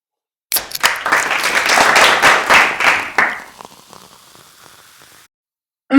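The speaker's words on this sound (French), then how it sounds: "Merci de l'applaudir avec vos mains bien moites" A burst of dense applause welcoming a guest on a talk show, rising quickly and holding loud for a few seconds before cutting off into faint scattered claps and then silence.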